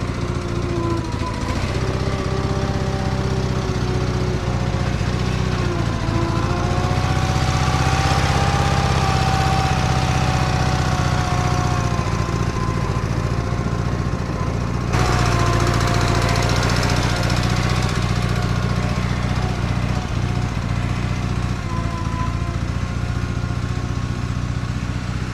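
An 1980s Case 446 garden tractor engine runs steadily and loudly up close as the machine is driven back, a continuous drone with slight shifts in pitch and no talking.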